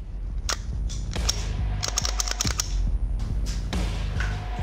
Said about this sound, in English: Oh, we've got another test fire.